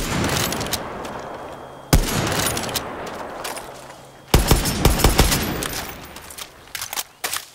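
Bursts of automatic gunfire and rapid shots in the Far Cry 6 video game crackle loudly in clustered volleys, separated by short pauses and ringing echoes.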